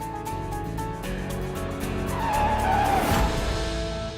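A car pulling into a street with tires skidding, engine drone under a long rising squeal of rubber, loud and close, no voices.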